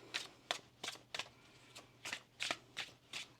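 Infinity Oracle tarot cards being shuffled in a close, quiet riffle: about nine crisp bursts of card flutter in a steady rhythm, with no voice over them.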